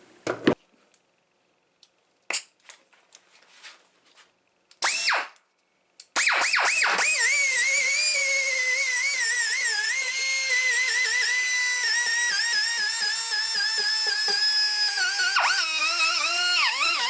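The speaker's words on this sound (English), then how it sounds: "I'm going to take a die grinder with a Scotch-Brite on there and then just clean" A die grinder fitted with a Scotch-Brite pad spins up after a few scattered clicks and knocks, then whines loudly and steadily with a wavering pitch as it scrubs excess adhesive off a plastic fuel tank.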